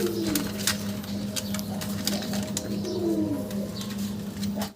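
Lahori pigeons cooing repeatedly in soft, rolling calls, close by, with faint clicks and rustles around them.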